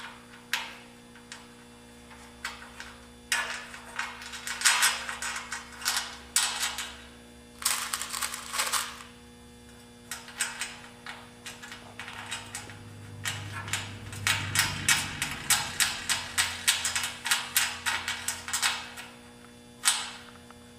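Bolts are tightened on a greenhouse leg assembly in bursts of quick, close clicking and ratcheting, each run a few seconds long, over a steady electrical hum with pauses between.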